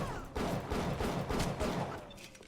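Gunfire in the video game BioShock, a rapid fusillade of repeated shots and bursts filling the scene at steady loudness, with no talking.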